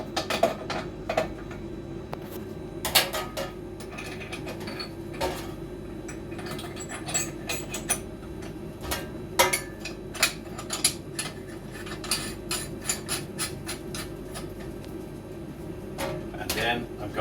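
Metal parts of a chilled meat mincer being assembled, giving scattered light clicks, clinks and knocks at irregular intervals over a quiet room background.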